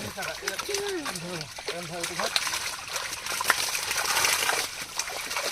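Water splashing and sloshing as a net's catch is poured out at a fishing pond, irregular splatters and trickles under overlapping speech from people nearby.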